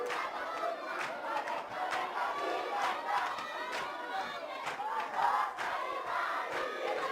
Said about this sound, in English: the crowd going mad for that one